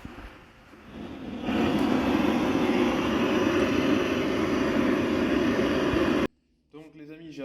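A heat gun warms a scooter's second crankcase ahead of fitting a crankshaft bearing, giving a loud, steady blowing roar that starts up, holds for several seconds and cuts off abruptly, after which someone speaks.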